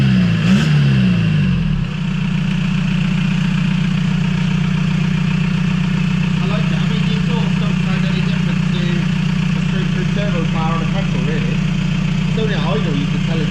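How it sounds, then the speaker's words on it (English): A Toyota MR2 Mk3 converted to a 1.9 TDI PD diesel engine idles with a loud, steady, low clattering drone right up close, after a brief rev at the start, with faint voices underneath. "Idle, you can tell it's diesel."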